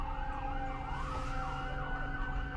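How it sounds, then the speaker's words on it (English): Wailing emergency sirens rising and falling continuously, several overlapping, moderately distant over steady road noise. "Oh, you hear all those sirens?"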